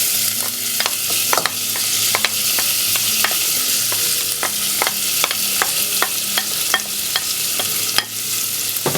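Onion, garlic and red capsicum frying in butter and oil, a loud close hiss of sizzling with regular spatula scrapes and taps against the pan throughout.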